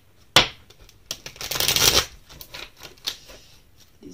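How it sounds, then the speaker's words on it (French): Tarot cards shuffled by hand, a sharp riffle followed by a dense burst of rapid card flutter and scattered softer slides, close and clear with no talking. "Ok, on va tirer les cartes."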